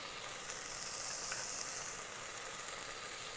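Shrimp with fennel, cumin, coriander and turmeric powders frying in an Instant Pot, giving a steady, even, close-up sizzle that holds constant throughout with no talking.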